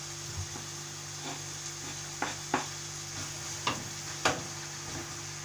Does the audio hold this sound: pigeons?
no